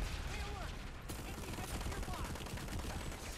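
Gunfire in Planetside 2, a continuous rattle of rapid shots throughout, fairly loud and dense against busy game noise.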